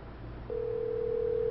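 A telephone call-connecting tone begins about a third of the way in and holds steady to the end, a single clear continuous tone over a faint low hum.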